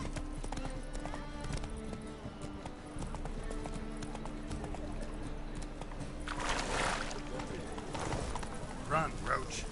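Horse hooves clip-clop at a gallop in The Witcher 3 video game, a steady rhythmic patter under game music and effects, with a person talking over it and a brief neigh near the end.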